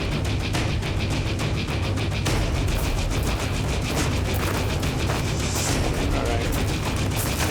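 Rapid gunfire rattles through shooting practice at a wildlife wardens' training session, a dense, continuous string of sharp cracks and pops, loud and close, with faint voices mixed in.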